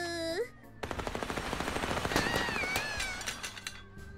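Rapid gunfire with real bullets in the video game Little Misfortune, a loud continuous burst of dense repeated shots lasting several seconds, with game music tones and effects layered over it.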